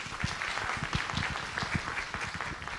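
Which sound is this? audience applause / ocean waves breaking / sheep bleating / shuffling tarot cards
audience applause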